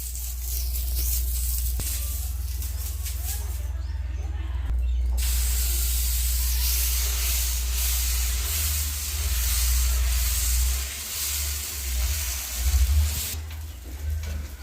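Dosa batter sizzles on a hot pan over a wood-fire stove, a steady, loud, close hiss that runs throughout with brief swells. Faint voices sit beneath the sizzle.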